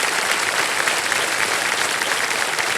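A contestant's husband claps among a studio audience on a TV quiz show, a dense, continuous burst of applause close and loud for a few seconds.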